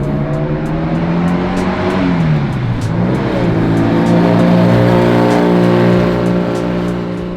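A custom turbocharged 1967 Volkswagen Beetle rag top, chopped and lowered, accelerates with a loud, close engine drone that dips briefly, then climbs and holds steady, with no talk.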